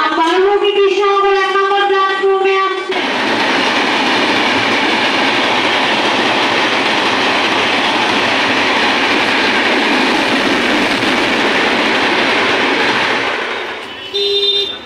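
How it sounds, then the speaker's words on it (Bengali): A train passes close by, its loud continuous rumble and clatter filling most of the stretch after a voice is heard at the start, then fading as it goes. "ওই দেখো ট্রেন।"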